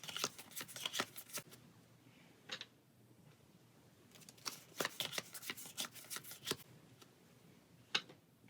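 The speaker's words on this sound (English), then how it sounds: "and they will get shuffled." Cards from the Pathfinder Adventure Card Game being shuffled by hand, several quick riffling bursts with pauses between them, close and crisp, no talking.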